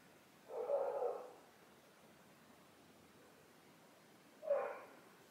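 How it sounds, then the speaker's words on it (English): A dog barks outdoors at a distance: one longer burst of barking followed a few seconds later by a single short bark, over steady background hiss. "We do not normally have dogs barking around here."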